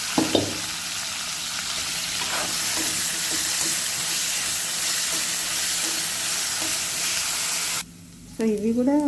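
Jackfruit pieces fry in hot oil with a dense, steady hiss and soft bubbling crackle that runs continuously, cutting out briefly near the end as a voice begins speaking.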